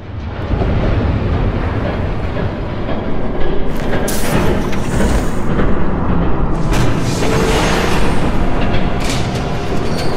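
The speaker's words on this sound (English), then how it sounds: "There's a train coming." A train rushes past loudly and close in a Batman: The Telltale Series game scene, a dense continuous roar with clattering and metallic bursts that holds at full strength throughout.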